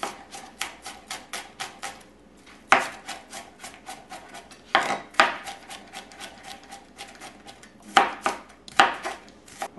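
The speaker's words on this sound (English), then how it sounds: "So we're not going to mince this. We're going to chop it fine." A knife chops garlic finely on a cutting board, making rapid, steady close knocks in quick runs with a few louder clusters and short pauses, with no voices.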